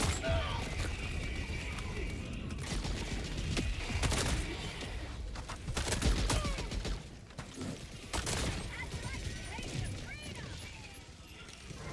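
A deployed sentry turret fires in Helldivers 2 amid a chaotic battle, with rapid bursts, crashes and mechanical clatter layered over continuous combat noise and players talking over the action.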